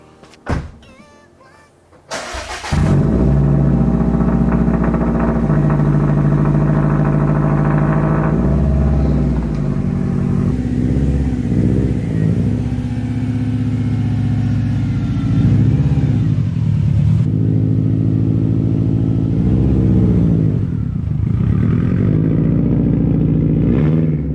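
A 2018 Subaru WRX STI starts and drives off, its engine rising into a loud, close, sustained rev with shifting pitch and gear changes, a car with a check engine light on, and no talk.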